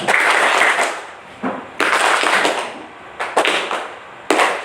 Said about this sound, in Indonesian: Coba perhatikan, tepuk spidol ya, sebentar aja ya.